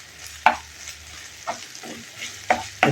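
Onions with ginger-garlic paste fry in a pan for a traditional taro curry, crackling softly under regular stirring strokes that scrape about once a second.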